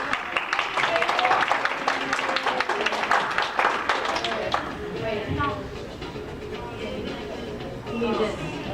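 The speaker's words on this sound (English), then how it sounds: "Give them a round of applause." Clapping and applause from a convention panel audience, busy and fairly loud for the first few seconds, then fading under people talking.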